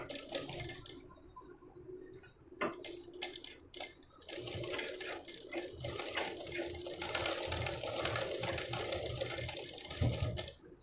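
A sewing machine stitching along the edge of a boat-neck blouse runs in a steady, close mechanical whir with brief pauses between stretches of stitching, without speech.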